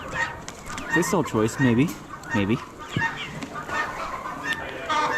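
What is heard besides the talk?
chickens clucking at a bird auction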